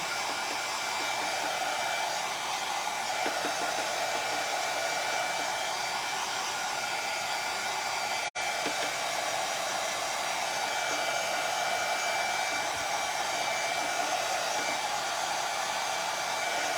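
A hair dryer blows steadily on a freshly painted pumpkin craft, a constant loud whooshing hum that runs throughout with only a momentary dropout midway, no voices.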